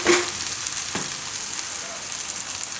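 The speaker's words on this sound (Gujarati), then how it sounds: "હવે આપણે આમાં નાખી દેવું ચણાનો લોટ" Gram flour hits sautéed onions in a hot pan, raising a steady close sizzle with a couple of light clinks from the utensil near the start.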